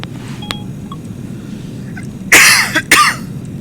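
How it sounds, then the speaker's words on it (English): A person in a car while driving coughs and clears their throat, with two loud, harsh bursts close together near the end over a low, steady road rumble. "What the hell's wrong with me? I keep coughing."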